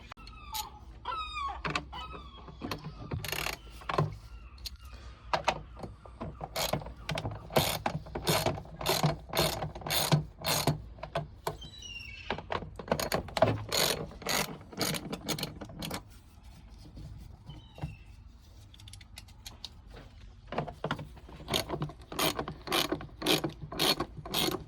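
A ratchet's rapid clicking pawl bursts repeat in quick sets, close and fairly loud, as Torx T25 screws are undone during a service of a Renault Clio 1.2, with short pauses between runs of clicks.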